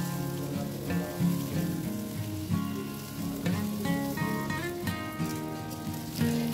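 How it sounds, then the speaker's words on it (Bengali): Potatoes and onions fry together in a pan for chana dal, giving a continuous close sizzle and crackle. Occasional stirring clatters can be heard, there is no talking, and faint music plays underneath. "তো তার জন্য একটু নাড়াচাড়া করে আলু আর পেঁয়াজ একসাথে ভেজে নেব।"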